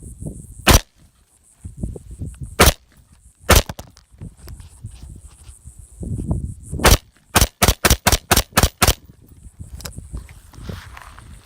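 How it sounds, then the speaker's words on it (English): A PWS AR-15 rifle test fired: about a dozen sharp, loud gunshots, a few spaced early on, then a rapid evenly spaced string of seven, with faint rustling and handling noise between. "let's go for a little test fire and see if she works"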